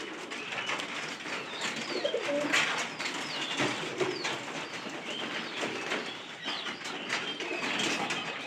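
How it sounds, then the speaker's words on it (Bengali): Pigeons roam outside their coop at feeding time, giving soft continuous cooing and occasional bursts of wing flapping at moderate distance, with no talk. "সব কবুতর কিন্তু বাইরে ঘুরতে আসছে, বাইরে খাওয়ার জন্য আর কি।"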